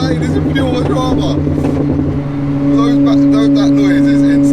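A McLaren 765LT fitted with nitrous oxide accelerates hard in a loud, sustained engine roar that climbs steadily in pitch, heard close up with excited voices talking over it.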